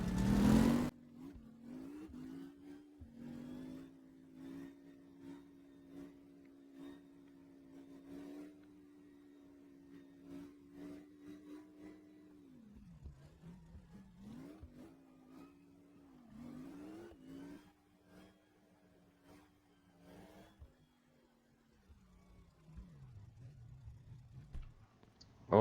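A '58 Impala engine in a video game rumbles at moderate level on a test drive, holding steady revs with several rises and dips as it accelerates and eases off, plus faint clicks, no voices.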